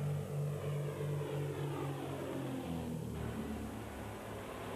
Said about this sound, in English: An aircraft of the Desert Locust Control Organization is brought into action.